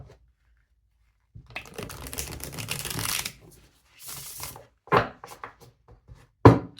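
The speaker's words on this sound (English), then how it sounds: "feel free to fast forward through the shuffling if you want" Tarot cards being shuffled by hand, a few seconds of dense riffling followed by short separate bursts of cards slapping and sliding together, close and crisp with silent gaps between them.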